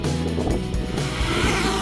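DJI Mavic Air drone takes off with a loud, close, dense whirring roar of spinning propellers that rises and holds steady throughout.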